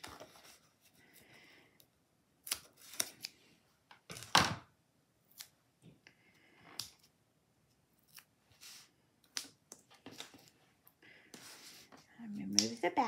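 Scissors cut small paper pieces for school candy cards, making a series of sharp, quiet snips spaced irregularly, with soft handling noises in between.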